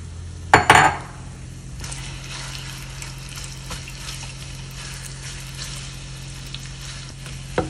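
Beef going into a hot pan for a stir-fry with broccoli, a sharp burst of sizzling with utensil clatter at the start, then a steady low frying hiss that continues alone.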